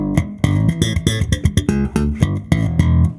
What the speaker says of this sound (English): if I play a typical kind of slap line,